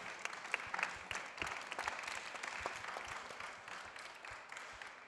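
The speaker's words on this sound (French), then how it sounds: "Oui, on peut applaudir." An audience applauds at a departmental school flower-garden competition, with dense, sustained clapping from many hands across the whole stretch, steady and slowly fading, and a faint murmur of voices underneath.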